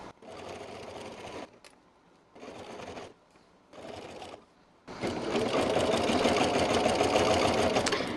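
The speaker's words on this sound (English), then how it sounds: "I'm going to back stitch a couple times there" A sewing machine runs in three short bursts, then stitches steadily and loudly, backstitching along the seam of a quilted market bag.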